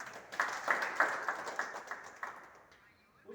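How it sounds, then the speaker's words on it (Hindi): Applause at a union gathering where workers join the INTUC federation in Jammu. A small group claps in a loose, brisk rhythm of distinct claps that thins and fades out within a few seconds. "जोरदार से तालियां।"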